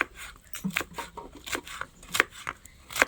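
A knife chops peeled tender jackfruit on a board. The cuts come as sharp, irregular taps about every half second, close and clear against a quiet background.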